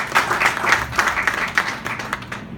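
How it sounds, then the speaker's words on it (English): An audience at a water ministers' meeting applauds the Secretariat, a brief burst of many hands clapping together, fairly close and steady for a couple of seconds before tapering off. "let's give a round of applause to the Secretariat"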